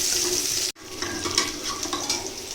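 Ginger frying in a pan gives a steady, close hiss of sizzling oil with faint stirring clicks, broken by a brief cut to silence before the sizzle returns.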